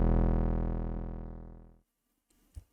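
Single held note from a Serum software synth with a 300 ms attack envelope, a bright buzzy tone that slowly fades over about two seconds into silence, followed by a faint brief click near the end.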